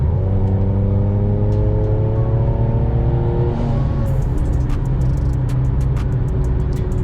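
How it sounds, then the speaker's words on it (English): A Mercedes-AMG C43 with 460 hp floored from ninth gear, a fast downshift to fourth, then a loud, rising engine roar that climbs steadily in pitch, heard from inside the car with no talking. "I went from 9th gear to 4th gear in like a split millisecond, and we accelerated pretty good."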